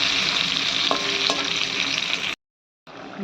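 Pieces of pointed gourd fry in a pan with a loud, close, continuous sizzle and a couple of sharp utensil clinks, before a brief silent gap and then more sizzling.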